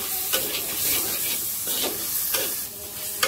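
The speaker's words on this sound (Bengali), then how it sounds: "এখন এটা একটু ভালো করে আমি কষিয়ে নেব।" Ground coriander-cumin paste and ginger paste sizzle in a pan for oats khichuri while a spoon stirs now and then. A steady close frying hiss carries soft scraping strokes.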